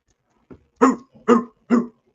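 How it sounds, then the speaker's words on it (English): Dog in Glasgow, Scotland giving three sharp barks in quick succession after a soft yip, close and clear against a quiet background. "Dogs barking in Glasgow, Scotland"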